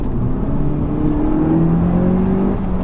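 An Audi S1 hatchback accelerating hard on the road, heard from inside as a loud, steady engine drone with rising engine pitch through the gears and tyre and wind roar, no voices.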